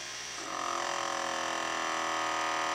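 A PSX 2500 fluid exchange machine hums steadily and loud once it starts up, a constant motor whine as it drains and fills power steering fluid, alone with no talk.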